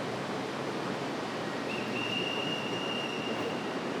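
Steady broadband rumble of a train in motion, continuous and fairly loud, with a thin high squeal rising partway through.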